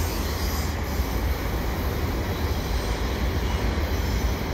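A CN mixed freight train with ES44 locomotives and distributed power rumbles past nearby at Valois, a loud continuous roar of rolling wagons with faint wheel squeal and no voices.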